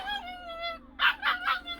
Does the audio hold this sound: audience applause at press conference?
no